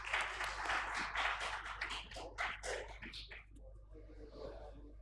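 A conference hall audience at a medical meeting gives brief polite applause for two men joining the stage, soft and somewhat distant, fading into a quiet room with low hum.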